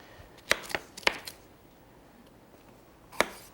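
Knife cutting fresh peppers into big slices on a board, a few sharp separate chops with quiet pauses between them.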